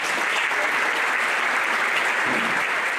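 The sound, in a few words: audience applause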